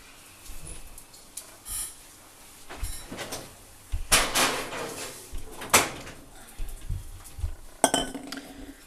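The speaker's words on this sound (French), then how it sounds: "Je mets les poires au four." Pears go into the oven amid a scattered series of kitchen clinks, dish and cutlery knocks and an oven door opening and shutting with a sharp clatter, all close by with no talking.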